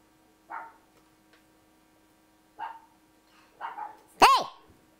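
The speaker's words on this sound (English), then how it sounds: "Wait till the dog stops barking." A dog barks in short bursts at a basketball shooting drill, several sharp barks spaced over a few seconds with one loud, close bark near the end, otherwise quiet.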